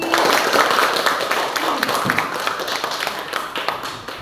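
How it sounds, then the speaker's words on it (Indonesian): Students applaud a presenting group in a classroom, a dense burst of clapping that tapers gradually over several seconds with a few scattered claps at the end. "Kita berikan aplaus sekali lagi."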